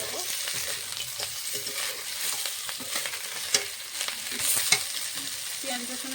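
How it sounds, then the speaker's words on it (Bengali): Fried fish being stirred with onion and garlic in a hot pan, continuous sizzling with scraping spatula strokes and a few sharp clinks against the pan, close up and without talk. "পেঁয়াজ রসুনের সঙ্গে মাছটা ভালো করে নেড়ে চেড়ে নিয়েছি।"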